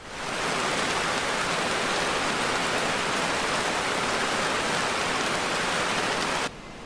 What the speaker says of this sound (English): Next morning, rainforest in the rain.